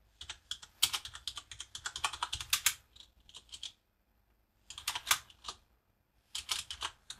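Rapid clicking keystrokes on a computer keyboard while a TightVNC server command is entered, coming in dense bursts separated by short pauses, close and clear with no talking.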